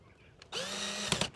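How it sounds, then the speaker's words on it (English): A power drill bores a hole during installation of a Ring security camera: a sudden close, loud whirring burst for about a second, ending with a couple of sharp clicks. "I can use my drill bit again to mark a drill hole."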